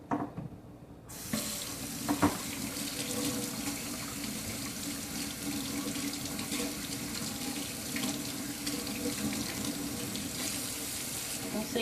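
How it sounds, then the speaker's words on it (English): A kitchen tap gushes steadily into a sink for hand washing after handling keto burger bun dough, a close, continuous hiss of running water with small splashy shifts that begins abruptly after a brief quiet moment. "I'm going to wash my hands off right quick."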